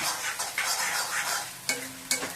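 A spoon scrapes and stirs gongura chutney through onions in a hot pan, giving soft rhythmic rustles under a light sizzle, with a few sharper clicks near the end.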